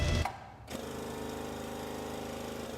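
A Holley Dominator electric fuel pump runs with a steady, even mechanical hum and fine whir. It follows a brief louder burst and a short gap, then holds constant and close with no voices.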